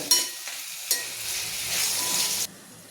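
Mixed winter vegetables with sesame seeds cooking in a pan, a close steady hiss and sizzle with two sharp onsets from stirring or a lid before it cuts to quiet.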